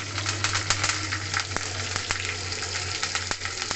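Green chillies and curry leaves hit hot oil already crackling with cumin and mustard seeds, giving a steady close sizzle with a few sharp pops and spits.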